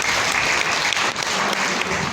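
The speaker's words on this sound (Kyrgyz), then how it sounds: "Бир кол чаап коет." A student audience at a university meeting claps briefly, a dense, uniform burst of applause filling the short moment without talk.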